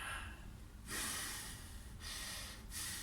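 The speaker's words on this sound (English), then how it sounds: "When you take a deep breath in, do you breathe like this, or do you breathe like this?" Sharp, deep breaths drawn in through the nose, with a few quick inhales separated by short pauses, close and fairly quiet, no talking.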